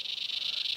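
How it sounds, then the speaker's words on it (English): Cicadas buzz outdoors in the hot sun in a steady, shrill drone with a fast pulsing flutter, moderately close and constant, with no voices. "cicadas. The insects are joining in."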